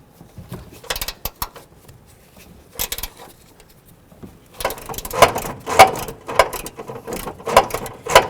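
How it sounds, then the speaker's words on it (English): An 18mm wrench loosens a nut on the front upper control arm of a 2008–2012 Jeep Liberty, heard as sparse metallic clicks and clanks that become a busier run of ratcheting knocks later on. "now we're going to use our 18mm wrench, and we're going to loosen this nut"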